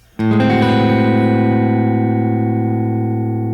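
A single minor major 7 chord with added 9 and 13 is struck on electric guitar and rings out, sustaining evenly with a clean, slightly reverberant tone.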